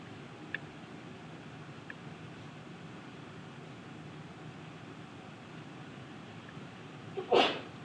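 A single sharp sneeze bursts out near the end, close by, after a long stretch of quiet room hum during a math exam review session.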